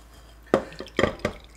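Buttermilk drains off freshly made homemade butter in a few separate splashy drips and pours, close and distinct against a quiet background.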